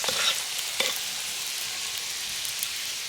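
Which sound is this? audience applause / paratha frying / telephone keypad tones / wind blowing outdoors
paratha frying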